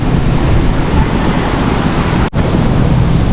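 Cool wind moving through an urban forest park, a loud, steady broadband rush with slight surges, briefly dropping out for a moment partway through before resuming just as strong.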